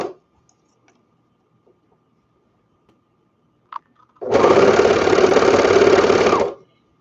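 A Juki sewing machine stitching a stretchy baby-bummies fabric: a few faint ticks and a short click, then a loud, steady motor whir running for about two seconds before stopping abruptly.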